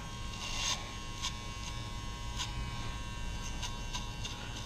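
Electric hair clippers with a number 2 guard buzz with a steady close hum while cutting a taper, with brief brighter bursts as the blades pass through hair.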